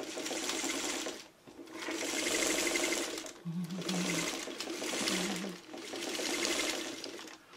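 A sewing machine stitches a Y seam in a quilt, its rapid, even whirring running in four long bursts with brief pauses between them, close and fairly loud with no speech.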